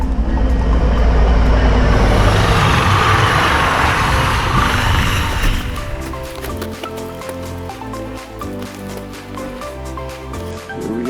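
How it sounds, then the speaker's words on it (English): A train passing nearby outdoors, a loud broad rumble and rush of rolling cars that fades after several seconds into rhythmic clacking of wheels over rail joints. "Oh, I hear a train."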